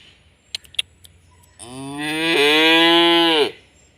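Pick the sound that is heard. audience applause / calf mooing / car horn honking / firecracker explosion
calf mooing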